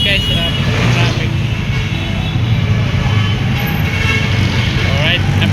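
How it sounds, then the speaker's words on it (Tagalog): Steady road traffic with car engines rumbling close by on a street in the Philippines, continuous and loud, with a voice talking over it throughout. "Traffic guys, traffic."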